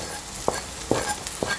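Green chillies and crushed garlic frying with browned onions make a steady close sizzle, with three soft scraping stirs spaced through a brief stretch.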